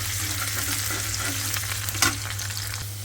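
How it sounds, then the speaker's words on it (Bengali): Garlic, onion and turmeric frying in very hot oil for dal make a loud, continuous sizzle with stirring scrapes and one sharp clack near the end. "তো হলুদও দিয়ে দিচ্ছি মানে তেলটা বেশি গরম হয়ে গেছে ওটার জন্য হলুদটা দিয়ে ভাইজে নিলাম"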